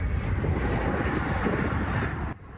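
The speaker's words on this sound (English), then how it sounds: "Early this morning, a C-17 military transport plane landed with supplies, mostly water." A C-17 military transport plane lands with a broad, loud engine roar that holds steady before cutting off sharply near the end, leaving a softer background rumble.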